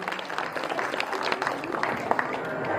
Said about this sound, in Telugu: ఒకసారి మరొకసారి చప్పట్లు కొట్టి అభినందనలు తెలియజేయండి